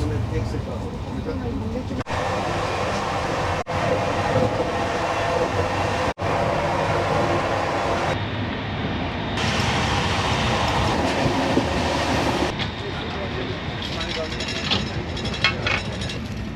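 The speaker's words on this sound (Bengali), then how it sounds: "বাট এই ট্রেনটা ছুটছে দুর্দান্ত" The Bhopal Shatabdi Express rumbles steadily at speed, a continuous loud roar with rhythmic clatter of wheels on track, plus brief dropouts and faint voices in the carriage.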